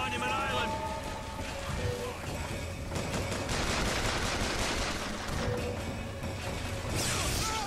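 Sustained gunfire in the shooter game BioShock Infinite, a dense roar of automatic shots and crashing impacts over a steady loud bed, with a voice talking faintly underneath.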